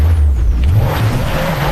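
Car engine in a downhill mountain driving video game, overheating and smoking on muddy terrain, a loud steady low drone with a slight shift in pitch, continuous and close.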